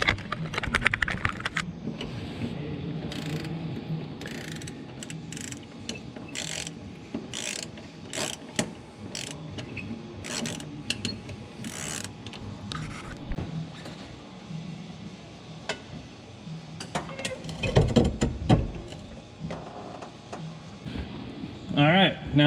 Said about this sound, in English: All right, Tanner, I need you to take this bolt, and this bolt out for me.